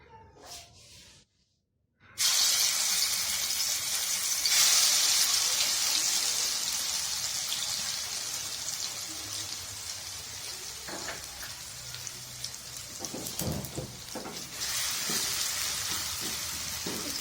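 A paste of crushed green chilies, ginger and garlic hits hot oil after a short quiet moment, then sizzles and spits loudly and steadily, slowly easing off toward the end.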